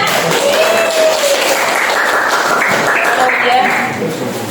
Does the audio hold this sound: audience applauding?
yes